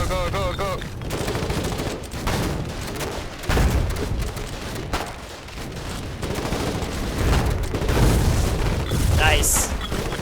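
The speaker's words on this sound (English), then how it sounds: "we opted to use the Colonials' own grenade launchers against them" Grenade launcher blasts and gunfire in a colonial-era war video game, with heavy booms and rapid shot bursts rolling throughout, loud and dense, while voices shout over the battle.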